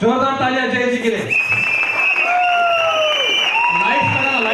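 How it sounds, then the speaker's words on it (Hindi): A live audience cheers and whoops with scattered clapping, the crowd noise mixed with loud excited voices and shouts throughout. "जोरदार तालियां जय जी के लिए।"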